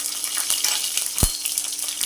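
Green chilies, cut lengthwise, hit hot tempering oil already holding sesame seeds and asafoetida for vati dal khaman, giving a steady bright sizzle throughout with one short dull thump near the middle and no voices.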